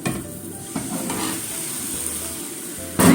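A cabbage pancake sizzles steadily in a hot frying pan just after being flipped, a close, continuous frying hiss with a brief scraping stir near the end.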